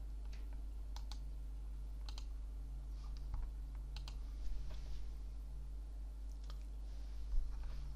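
Sparse key clicks and taps on a computer keyboard, with occasional sharper keystrokes like Enter, set against a steady low electrical hum; quiet and close, no voices.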